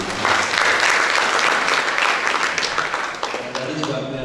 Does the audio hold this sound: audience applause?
yes